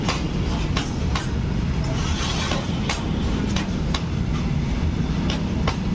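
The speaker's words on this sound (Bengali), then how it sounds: "ভারতীয় ট্রেন বাংলাদেশে প্রবেশ করলো ট্রেনের পথ" A train from India crossing into Bangladesh at the border rumbles steadily along the tracks, with a continuous heavy roar and recurring sharp clicks from the wheels passing over rail joints.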